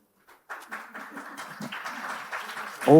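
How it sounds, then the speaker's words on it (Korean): Audience applause breaks out at a drama press event as an actor steps onto the stage, a short burst of clapping rising steadily and growing louder toward the end. "박수가 쏟아지고 있습니다."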